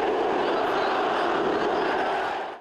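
Dense stadium crowd roar during a Brazilian football derby between Atlético Mineiro and Cruzeiro, a loud sustained wash of thousands of fans protesting a foul on an attacker, steady throughout and easing slightly at the very end.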